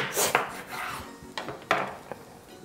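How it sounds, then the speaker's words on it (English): A knife slices through raw yam on a board in a few close, crisp strokes, each a short scraping cut with a light tap, quiet and without talk. "And then I'm going to cut the yam."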